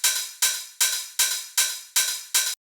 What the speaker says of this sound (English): So the open head loop with the reduced envelope sounds like this.